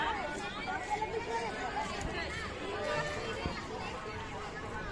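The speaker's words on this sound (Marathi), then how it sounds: "आज पण किती गर्दी आहे भरपूर गर्दी आहे फुल गर्दी आहे" Dense crowd chatter fills the busy Mhasa fair market, a steady babble of many overlapping voices close by, with scattered nearer calls and a bustling, continuous murmur.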